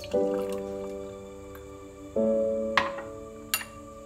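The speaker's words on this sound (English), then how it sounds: "Put pineapple mixture in this glass." Pineapple mixture pours into a glass with ice, a gurgling fill with resonant tones, followed by a couple of sharp clinks and drips.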